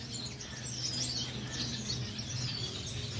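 A pair of silver diamond finches chirp in an aviary with quick, thin high tweets scattered over a low steady background hum.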